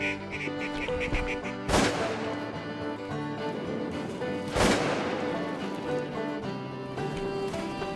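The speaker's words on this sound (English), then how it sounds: "Plenty of ducks flying around." Ducks quacking in flooded Arkansas timber during a hunt, with two sharp, loud shotgun blasts cutting through the calls.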